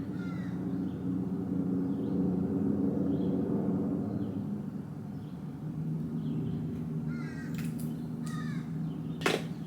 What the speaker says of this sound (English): there's a plane flying and then there's some birds and crows